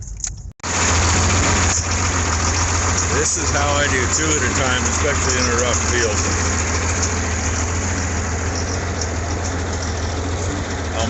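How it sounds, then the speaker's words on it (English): A tractor engine runs steadily in a rough field, a loud constant low rumble throughout after a brief dropout at the start, with someone talking over it. "There's the tractor. I found it."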